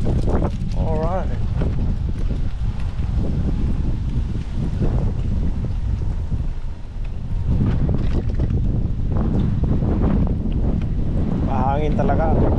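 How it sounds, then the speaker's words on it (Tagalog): Strong wind buffets the microphone with constant low rumbling gusts, loud and close, while a person talks intermittently over it. "Mahangin talaga."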